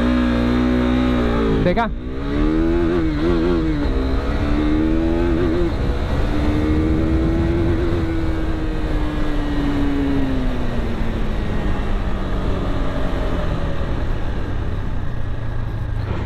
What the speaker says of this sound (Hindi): तो चलिए एक लॉन्च करते हैं, देखना व्हील स्पिन कैसा करेगी।